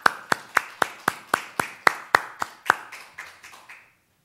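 A single person clapping at a church service to welcome singers, about fifteen sharp, evenly spaced claps that slow slightly and fade toward the end, close and alone.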